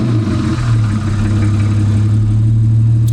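Twin-turbo Ferrari V12 engine running steadily with engine flush circulating, a loud, deep, even drone with a strong low hum that holds unchanged for several seconds, close by.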